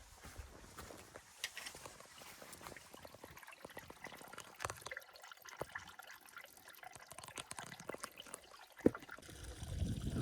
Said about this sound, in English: all of this water is coming from underground, so you can hear it